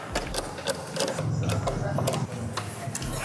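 Screws are tightened to close the case of a Tiandy AK2 kit CCTV NVR recorder, giving a rapid run of small mechanical clicks and ticks close by, with a voice underneath.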